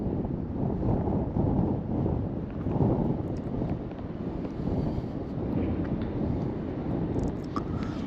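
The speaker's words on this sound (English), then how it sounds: "the wind picked up significantly." Strong wind buffets the microphone outdoors near Sunderland, producing a continuous low roar that swells and eases in gusts.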